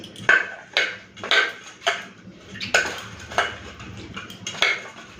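White shrimp are mixed with salt and turmeric in a bowl, giving a quick series of close clinks and knocks, about eight in five seconds, against a quiet kitchen background without speech.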